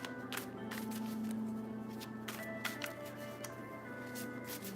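A tarot deck is shuffled in brief riffling bursts, a few quick papery flutters against a quiet room hum.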